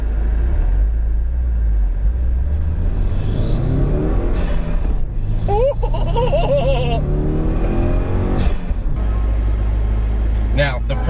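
A turbocharged car engine fitted with a MAPerformance intake and Stage 1+ tune, a steady close low rumble rising under acceleration, with someone talking over it throughout.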